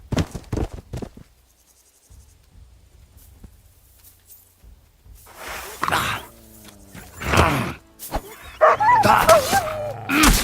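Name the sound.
dog barking in Kingdom Come Deliverance 2 video game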